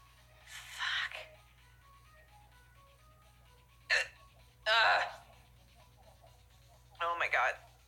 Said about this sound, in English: These fucking hiccups right now.